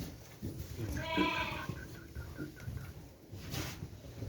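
An ailing sheep gives a wavering, drawn-out bleat that breaks into a short pulsing run, fairly faint and close against a quiet outdoor background.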